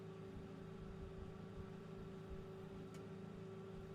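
A microwave running in a late-night office horror video game while heating coffee gives a faint, steady low hum with a constant tone, broken by one brief tick near the end, with no talk.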